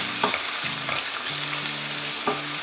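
Onions and green chillies fry in a pan, a continuous close sizzle broken by several stirring scrapes and taps.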